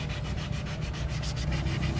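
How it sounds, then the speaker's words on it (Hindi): Paint being rubbed off a Brezza car bumper by hand, a close, quiet, rhythmic scrubbing of repeated back-and-forth strokes with no voices. "रबिंग मार के अब इसमें पता चल जाएगा, जो भी ऊपर का पेंट था ना वो उतर जाएगा"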